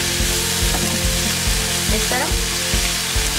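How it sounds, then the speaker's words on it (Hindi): Onion and finely chopped cabbage being lightly sautéed in a grill pan: a loud, dense, steady sizzle with a rhythmic thump of stirring every half second or so, and a brief spoken phrase over it. "और इसे भी हल्का भून लेंगे"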